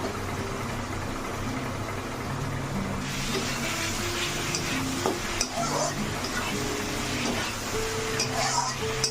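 Potatoes frying in hot spiced oil in a pan over a low gas flame, a steady close sizzle with scraping stirs and metal clinks. Faint talk runs underneath.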